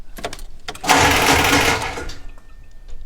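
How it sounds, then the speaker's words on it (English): A failing starter motor on a Duramax-swapped K20 truck gives a short, harsh whirring grind, loud and close, that rises abruptly, holds for about a second, then dies away into quiet clicks. "I'm gonna guess the starter just went out."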